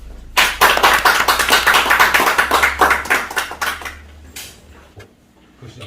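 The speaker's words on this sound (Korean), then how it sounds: "큰 박수 부탁드립니다." A seated audience at a Korean regional development policy forum claps for an arriving speaker, a brisk run of distinct, close hand claps that thins out and stops before a short quiet tail.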